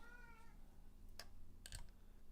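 Hungry house cat meowing during electronics repair: one brief, faint meow at the start, followed by a few light clicks and taps in a quiet room.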